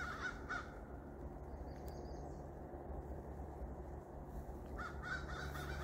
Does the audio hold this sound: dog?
no